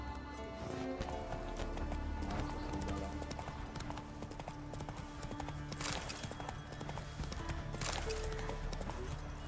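Roach the horse galloping in The Witcher 3 on Skellige, steady rhythmic hoofbeats clip-clopping throughout over ambient game music, with a brief whinny, no talk.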